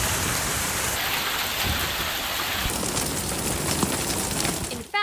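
Hail and torrential rain from a severe thunderstorm near San Antonio pound down in a dense, loud, steady roar, with scattered sharp impacts standing out and a brief dropout at the very end.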